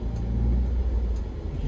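A 2014 Toyota Avanza G with a manual gearbox accelerates, heard from inside the cabin as a steady, loud, low engine rumble that holds for under two seconds.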